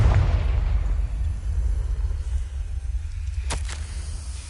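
A Confringo blasting spell explodes in the Hogwarts video game with a deep, rumbling boom that lingers, followed later by a sharp, brief crack.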